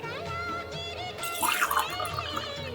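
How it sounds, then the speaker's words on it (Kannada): A cup of water poured into a thick cooking pot on a gas stove, a short splashing gush that swells briefly in the middle and settles, fairly close and moderately quiet. "ಸೊ ಇಲ್ಲಿ 1 ಕಪ್ ನೀರು ಹಾಕ್ತಾ ಇದ್ದೀನಿ"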